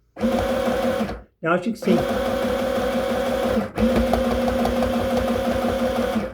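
A sewing machine stitches a red cotton skirt, running in a steady sustained whir that breaks off briefly near the start and dips again midway, with a person talking over it.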